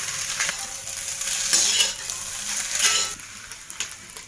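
Carrot, capsicum and cabbage frying in a pan for egg fried rice, a steady close sizzle with repeated scraping stirs of a spatula against the metal.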